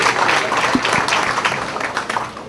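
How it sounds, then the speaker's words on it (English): An audience at a radio event claps for Pastor Martin in a short, moderately loud burst of applause that thins out and fades over a couple of seconds. "Give him a big round of applause, ladies and gentlemen."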